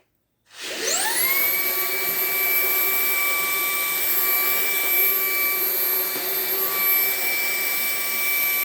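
A Ryobi HP stick vacuum with a nozzle attachment runs loud and steady after a quick spin-up, its high motor whine holding constant for several seconds.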